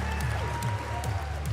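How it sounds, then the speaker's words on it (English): Audience at a Pokémon VGC tournament applauds the staff with a dense, continuous patter of clapping, faint and distant throughout the short burst. "So please, everyone, give the staff a huge round of applause."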